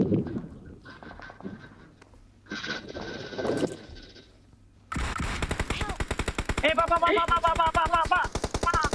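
Gunfire in PUBG Mobile: scattered shots at first, then a long rapid burst of automatic fire, loud and close, with a few bleat-like game sounds mixed in.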